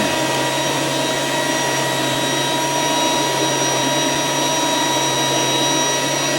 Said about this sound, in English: You tell how the motor's starting to rev up?